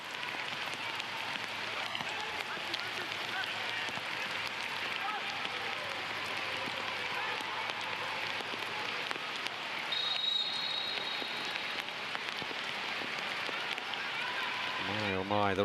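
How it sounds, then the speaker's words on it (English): Heavy rain pours steadily throughout a World Cup qualifier football match between Central African Republic and Cape Verde, a dense continuous hiss with crowd and commentary voices underneath. "My oh my, the rain now,"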